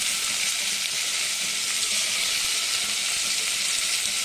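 Ingredients for a potato curry fry in a hot pan, a dense, steady sizzle that holds at an even, loud level throughout with no talking.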